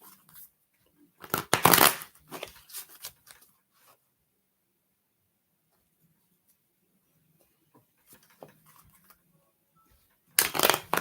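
A brisk riffle of playing cards being shuffled, followed by softer handling sounds, a long quiet pause, and another shuffle starting at the end.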